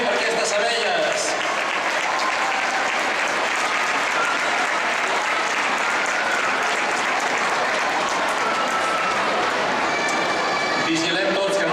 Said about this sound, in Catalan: Aplaudiment per aquestes abelles.